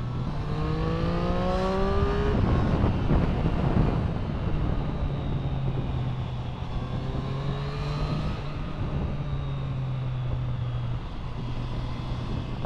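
A Triumph Street Triple R motorcycle fitted with a Zard exhaust is ridden on a highway, its engine climbing through the gears in rising, shifting whines with a loud, raspy drone and steady wind noise throughout.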